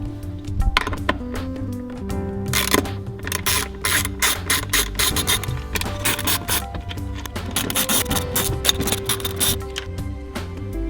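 A hand ratchet loosening 10mm nuts on a Corvette C6 shifter gives rapid, close metallic clicking in repeated bursts across the whole stretch, with short pauses between strokes.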